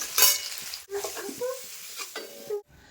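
Potatoes frying in hot oil while being stirred, with a loud sizzle at the start followed by scraping and clattering in the pan, then a sudden stop.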